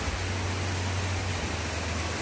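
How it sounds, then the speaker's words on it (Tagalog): Heavy rain pouring steadily during a storm, a dense unbroken hiss of falling water with a low rumble underneath, constant and loud with no voices. "Lakas ng ulan, sobrang lakas ng ulan."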